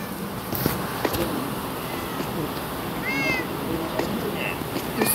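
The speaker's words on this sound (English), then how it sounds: "Just the cats." Cats meowing in a Minecraft game set in space, with a rising meow around the middle over a steady noisy game background, with talk mixed in.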